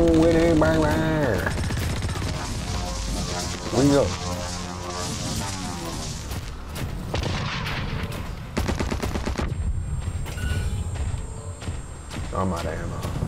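Gunfire in the shooter video game Blacklight: Retribution, with rapid bursts of automatic shots and single cracks rattling throughout, loud and close, while a player talks over the action.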